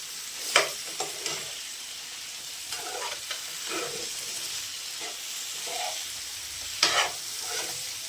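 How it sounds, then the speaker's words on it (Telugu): Chicken fry curry is stirred in a hot pan, with a continuous hissing sizzle broken by several scraping, clattering stirring strokes, the loudest near the start and the end. "ఇప్పుడు ఒకసారి కలుపుకుందాం, చూసుకుందాం."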